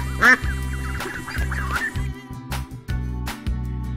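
Cartoonish duck quacks in a video game, a nasal honking voice repeating in short bursts over a steady electronic background tone.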